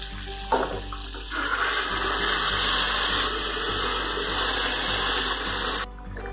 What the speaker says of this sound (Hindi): अब हम चने को मसाले में डाल देते हैं।